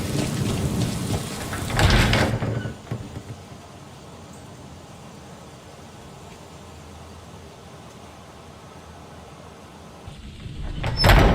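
Steady rain and rumbling thunder in the video game Skyrim, a loud burst of storm noise at the start and again at the end, with a softer continuous downpour in between.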